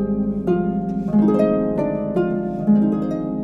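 Harp notes plucked in a gentle flowing pattern, with sustained resonant tones and soft low background, heard alone and fairly close.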